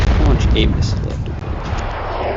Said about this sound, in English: We'll launch 2 missiles.